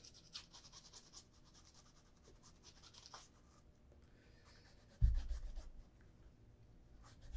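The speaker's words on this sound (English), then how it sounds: "Now the stack heel is also made out of leather, so waxing there is not uncalled for." A leather stack heel on a brogue shoe is rubbed with wax, giving a soft, close, faint scratchy brushing that continues steadily, with a louder thump near the end.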